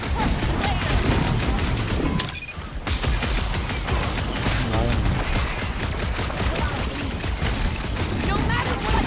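Sustained gunfire rattles through a firefight in Marvel's Guardians of the Galaxy, dense and loud with a brief drop partway through before the shooting resumes. Voices talk over the battle.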